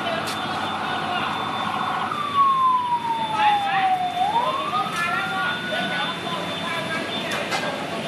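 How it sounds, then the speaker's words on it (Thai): Fire engine sirens arrive at a basement fire at a hotel in Chiang Mai at night, one wailing tone sweeping down and back up over a constant background hum, with faint voices in the mix. "ขณะนี้รถดับเพลิงหลายคันนะครับเข้ามาที่เกิดเหตุครับ"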